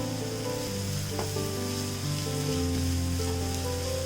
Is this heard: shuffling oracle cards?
no